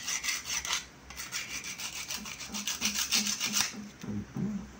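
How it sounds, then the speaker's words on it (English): Sandpaper rubs rapidly back and forth over the edges of copper wire, a close, continuous run of quick scratchy strokes with a brief pause partway through. "this sandpaper is for making smooth the edges where we are going to connect the actual wire"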